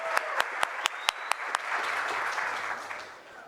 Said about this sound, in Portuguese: Posso aplaudir vocês por estarem aqui?